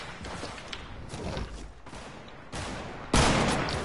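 Sniper gunfire in the Fortnite video game: a few sharp broadband cracks, with one loud close shot near the end over scattered game noise, no talking.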